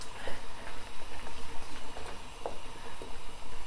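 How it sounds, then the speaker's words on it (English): Sweet soy chicken and potatoes in sauce bubbling hard over high heat, a dense continuous simmering hiss with soft rhythmic blips and pops, close and fairly loud. "keep it bubbling for a bit"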